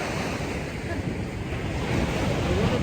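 Ocean waves wash continuously onto an Australian beach after rain, a loud, broad roar mixed with gusty wind buffeting the microphone, with no distinct individual breakers standing out.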